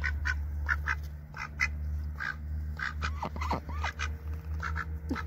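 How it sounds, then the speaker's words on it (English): Ducks quack in short repeated bursts over a low steady hum, several calls overlapping at a moderate distance, with a few higher whistling notes. "My therapy ducks."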